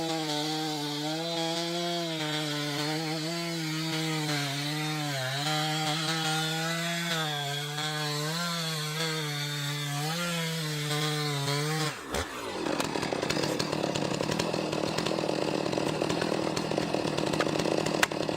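A Husqvarna 560 XP chainsaw cuts into a 600-year-old tree, holding a steady high engine whine with small wavering pitch changes for about twelve seconds, then giving way to a rougher, noisier grinding as the chain bites deeper.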